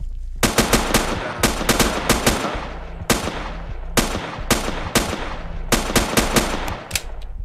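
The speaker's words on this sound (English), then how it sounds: "I'm gonna fire at the first one, closest to me." Rapid bursts of gunfire from the survival video game Next Day Survival, loud and close, firing in repeated volleys of several shots with short gaps between them and no talking.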